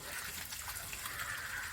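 Water gushes steadily from an opened Jalamithra water filter, a continuous faint hissing rush with no pause, heard alone and close by.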